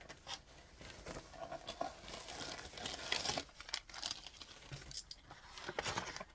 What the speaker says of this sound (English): Sorry for the rustling.